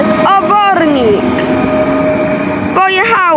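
A Koleje Wielkopolskie passenger train from Oborniki pulls away from a station, with steady rolling and a rising engine drone under bursts of nearby talk and a couple of high whistle-like tones.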